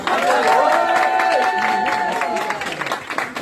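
A small audience at a TV game party event gives brief applause and cheering, mixed with voices and a sustained tonal sound, then fading toward the end.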